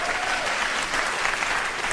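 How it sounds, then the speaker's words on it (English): A comedy club audience claps in a dense, steady burst of applause that fills the room and keeps up its level throughout, with no voices above it. "you see how they're clapping?"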